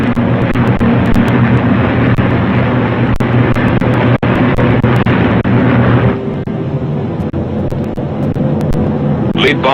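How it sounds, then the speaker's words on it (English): P-51 Mustang fighter planes climb in formation, a steady loud roar of piston engines under a narrator's voice, the sound dropping slightly in intensity partway through. "The Mustangs climb in formation to take positions above the boxes of B-29s."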